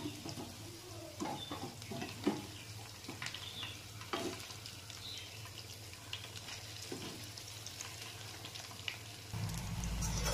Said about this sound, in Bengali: মাখানো হয়ে গেছে, এবার বড়া ভাজবো। তেল বসিয়ে দিয়েছি, গরম হয়ে গেছে।